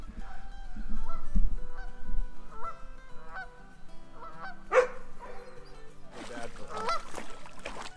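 Geese honk repeatedly in a noisy flock at the water in the Adirondacks' Pharaoh Lake Wilderness in spring, harsh calls overlapping, with a dog's bark mixed in nearby.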